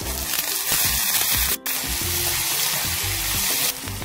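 Dal added to a frying pan with onions, garlic paste and green chillies for a bitter gourd dish, sizzling steadily and loudly with stirring scrapes and a brief clink.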